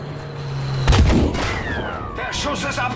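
A single heavy tank cannon boom in Battlefield 5 bursts out, followed by rumbling echoes and electronic game tones and chirps.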